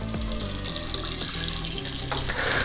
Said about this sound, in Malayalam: തണുത്ത വെള്ളം ഒഴിക്കുക കേട്ടോ.